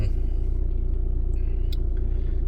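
A running Audi A6 C6 TDI diesel engine tuned to about 188 bhp, idling with a steady low, even throb that stays loud and close throughout, with no voices over it.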